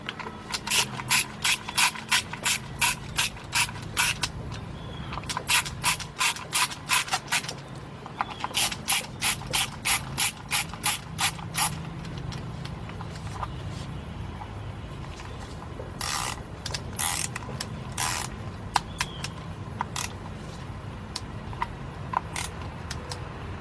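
A ratchet wrench tightens bolts on a 2003 Nissan Maxima 3.5 engine during a partial rebuild. Rapid clicking runs come in several bursts with short pauses between them, close and loud against a quiet workshop background.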